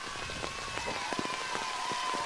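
Rain falls on an outdoor field during an ultimate frisbee championship game, a soft continuous patter with scattered drop splashes, fairly faint and steady, without speech.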